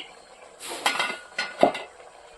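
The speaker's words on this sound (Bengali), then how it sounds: "এখন আমি ঢাকা খুলে দেখে নেব" A lid comes off a pot of cauliflower kalia in a village kitchen, with a few soft metallic clinks and a sharper clatter, fairly quiet and close.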